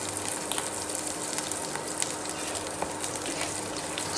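Chili seeds hit hot oil in a pan and sizzle with a continuous, moderately quiet hiss scattered with small pops and crackles.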